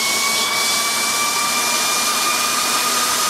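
Air compressor with cooling fans running while filling a Kral Puncher NP1 air rifle, a loud, continuous roaring whir with steady high tonal whines and no break.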